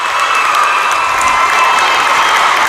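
A big crowd in a Sulphur Springs, Texas high school basketball gym cheers and applauds in a steady, loud, dense roar that fills the whole moment without letup.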